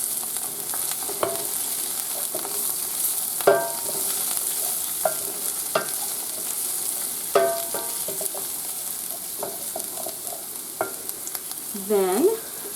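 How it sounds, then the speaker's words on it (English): Garlic and ginger sizzling in a pan for General Tso's chicken, a steady close hiss broken by sharp spatula scrapes and clanks against the pan, with no talk. "So just a quick little stir around the pan."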